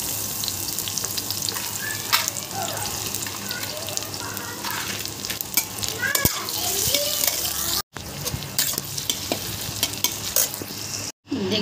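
Onions sizzle loudly and steadily in a hot wok, with occasional scrapes from stirring throughout, while cooking matar chhole.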